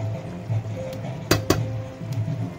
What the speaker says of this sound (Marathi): थोडा वेळ झाकण देऊया।